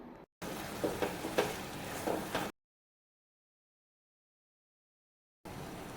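Chammanthi sizzling in a clay pot just after coconut oil is poured in, a steady soft crackle for about two seconds, then silence before the sizzle briefly returns.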